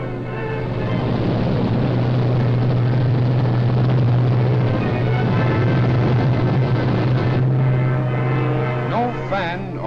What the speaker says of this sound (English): as the planes with men and gliders with supplies take to the air